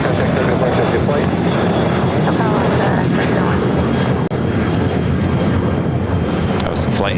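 A fixed-wing airliner roars loud and continuous at LAX, a broad steady engine rumble filling the air close by, with voices faintly underneath.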